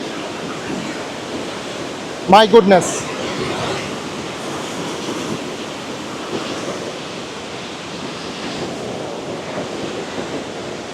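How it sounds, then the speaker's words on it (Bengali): Water pours down mountain waterfalls along the Annapurna trek in Nepal in September, making a steady, loud, broadband rush that continues throughout, interrupted once by a brief spoken exclamation. "এবং এই পানি পড়তেছে, পানির শব্দ এতটাই,"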